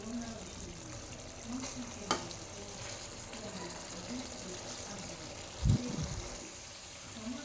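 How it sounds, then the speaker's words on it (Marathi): Stuffed bitter gourd curry cooking down in a pan over a high flame, a soft steady sizzle and bubble broken by a couple of spoon clinks and stirring knocks, close and fairly quiet. "आता आपण गॅस फास्ट ठेवून थोडीशी भाजी आपण आटवून घेऊयात"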